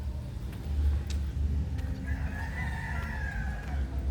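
Rooster crowing in a Bohol village, one drawn-out call at moderate distance over a steady rumble of passing traffic, with faint clucking nearby.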